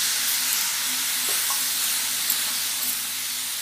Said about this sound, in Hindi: घी डालने के बाद इसमें हम ये घिसा हुआ चुकंदर बीटरूट डाल देंगे